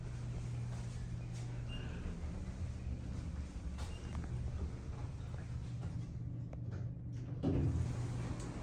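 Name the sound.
Westinghouse elevator door moving along its track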